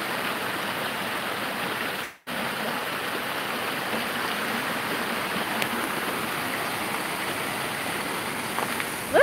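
Water pours steadily through a roadside culvert at a hidden spot in Ontario, Canada: a constant, fairly loud rushing wash with one brief cutout early on and no talking.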